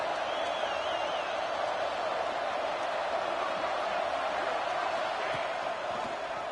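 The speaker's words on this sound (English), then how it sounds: "Listen to the crowd energy here in the early going." A football stadium crowd roars early in the game, a broad, steady sustained wall of cheering noise without pauses, heard with no clear speech over it.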